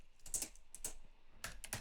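Fingers typing on a computer keyboard, quiet close clicks in short irregular bursts with brief pauses between, heard alone without speech.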